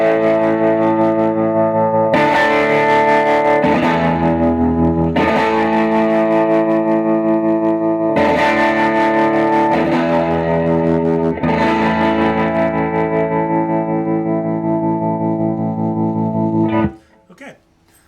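Electric guitar on the bridge pickup through a Fender Excelsior 13-watt amp, playing loud sustained chords with a few changes and rich ringing overtones for about seventeen seconds before cutting off abruptly.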